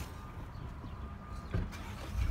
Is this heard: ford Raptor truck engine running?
yes